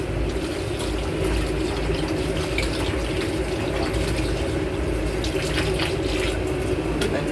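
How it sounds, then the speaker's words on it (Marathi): Goat tripe (vajadi) being rinsed by hand in water, a steady close splashing and sloshing wash running throughout without talk. "वजडी आणली ना तिला स्वच्छ धुवायची, म्हणजे मग ती चांगली बनते. अशी धुवायची."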